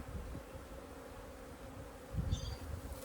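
Bees buzzing inside a top bar hive opened for a first inspection, a dense low drone close by with a louder swell near the end and brief rustling.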